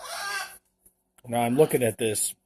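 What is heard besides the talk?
birds in the background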